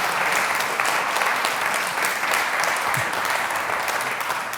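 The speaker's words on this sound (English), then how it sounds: "So let's have another round of applause for Alison Wellen there." Sustained audience applause at the Lichfield Live Community Awards 2021, steady and full from a sizeable crowd in a hall, clapping continuously without any talk over it.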